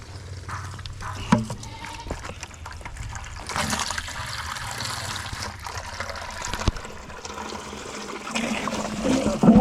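Water running and splashing while a goat's water container is washed out on a countryside farm, a steady close pour and trickle with occasional clunks and bumps.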